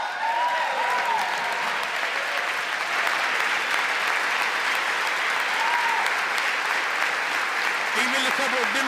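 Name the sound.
applause and clapping at State of the Union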